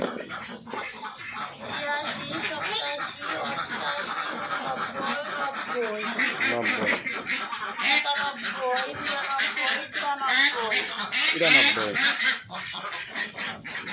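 A flock of egg-laying ducks on a duck farm honks and quacks constantly and noisily, close by, while someone talks over them.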